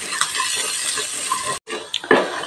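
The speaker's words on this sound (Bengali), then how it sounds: "লাইট ব্রাউন হওয়া অবধি, গোল্ডেন হওয়া অবধি ভেজে নেব রসুনটা" Chopped garlic fries in oil in a pan, a steady close sizzle with scraping stirs that breaks off briefly and returns with a sharp burst of crackling and a light clink.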